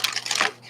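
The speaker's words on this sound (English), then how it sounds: "I want to shuffle these up really good." Tarot cards being shuffled by hand, a quick run of close, crisp riffling clicks lasting under a second.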